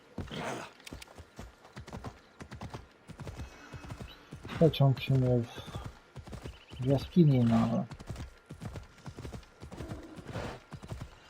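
Horse hooves clip-clopping in Assassin's Creed Odyssey, a quick steady rhythm of hoofbeats with a couple of whinnies, heard under someone talking casually throughout.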